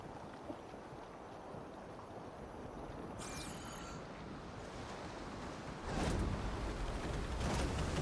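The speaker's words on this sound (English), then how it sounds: "Waves getting a bit choppier." Ocean waves in Horizon Forbidden West, a soft continuous wash of water and wind that swells into a louder choppy surge in the last couple of seconds, with no speech.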